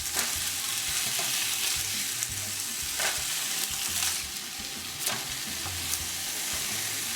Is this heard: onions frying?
yes